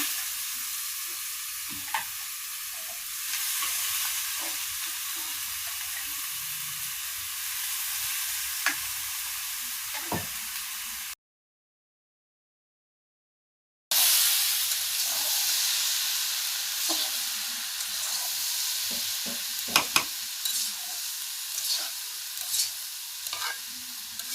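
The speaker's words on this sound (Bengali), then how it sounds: "এই যে দেখেন সুন্দর করে ভাজা নিতেছে লাল লাল করে ভাজা হইতেছে" Vegetables frying in a pan with turmeric and salt give a steady, close sizzle with scraping stir strokes, broken by a short stretch of silence before the hiss resumes.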